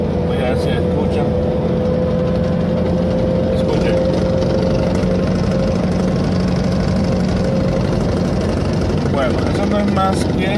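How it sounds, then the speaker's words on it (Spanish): A car's steering rack vibrating at about 90 km/h, a continuous machine-gun-like buzzing rattle over loud engine and road drone heard from inside the car, with a voice talking over it. "otros le dicen la metralleta por el sonido que presenta, que es una vibración continua"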